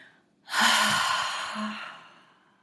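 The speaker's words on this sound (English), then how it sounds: "And then taking a big, forceful exhale out." One big, forceful exhale during a walking meditation breathing exercise: a single long, breathy rush of air that starts sharply and fades over about two seconds.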